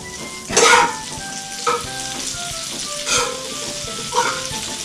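Butter sizzles in a heated frying pan with a steady crackle, broken by a few louder bursts of spitting and stirring at regular intervals.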